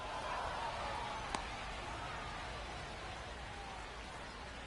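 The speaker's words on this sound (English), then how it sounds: "it's just thunder and lightning and lots of rain" Steady rain pours over a baseball game during a thunderstorm with lightning, a dense continuous hiss with one brief sharp click partway through and no voices.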